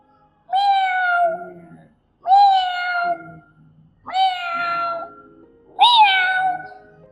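Four recorded cat meows played as an animal-sound example, each a drawn-out, clear cry separated by short pauses, close and prominent with no speech.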